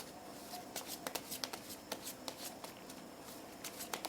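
Tarot cards being shuffled by hand, a quiet, close series of crisp riffling flicks and soft taps repeating at an uneven pace against faint room hiss.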